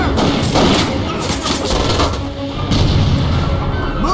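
Loud, sustained covering fire and explosions in a Pacific jungle battle from Medal of Honor: Pacific Assault, with rolling bursts and heavy booms layered over one another and no clear pauses.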